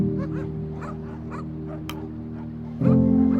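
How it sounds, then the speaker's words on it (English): Dogs fighting over a fish fillet in the video game The Pale Beyond, with a string of yips, short barks and whimpers over a steady low background drone that swells louder near the end. "She points to the dog tearing the fillet from its sibling."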